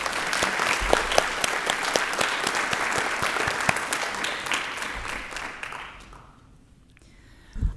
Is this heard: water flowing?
no